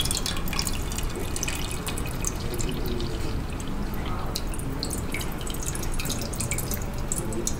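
Liquid drips steadily from a volumetric measuring vessel during a laboratory verification, a continuous wet pattering and trickling that stays fairly loud and even throughout, with no voices.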